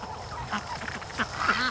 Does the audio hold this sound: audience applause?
no